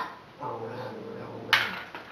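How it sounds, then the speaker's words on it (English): A dog barks once in a single sharp, close burst, heard while a groomer is brushing out a pillow roller set. "My dog's barking at me."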